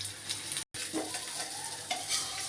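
Pointed gourd fries in a pan with a soft, even sizzle and a few faint stirring scrapes, broken by a brief dropout, without any talking.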